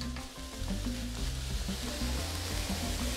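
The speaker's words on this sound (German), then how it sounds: "Nur kurz anbraten." Samosa filling of onions frying briefly in a pan over fairly high heat, a steady close sizzle with occasional stirring scrapes and no talk.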